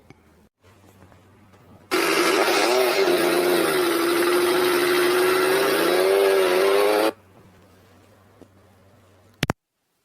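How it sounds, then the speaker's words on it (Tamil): A motorbike passes on a village road, its engine roaring in suddenly, droning loud and close for about five seconds with a slight pitch rise and fall, then cutting off, leaving a quiet hum and a sharp click near the end. "ஏதோ மோட்டர் பைக் சவுண்டு கேட்கல என்ன?"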